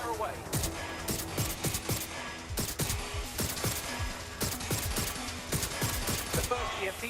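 Rapid bursts of gunfire in Watch Dogs: Legion, a steady stream of sharp shots repeating across the whole stretch at moderate loudness, with a voice speaking over parts of it.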